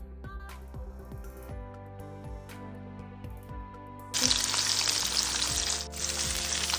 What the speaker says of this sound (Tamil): நல்லா 2 பக்கமும் அழகாக வெந்துடுது.